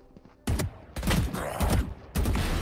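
Valorant gunfire from a competitive round: several sharp, loud bursts of shots come in quick succession, each ending in a short decay, with brief quiet gaps between volleys.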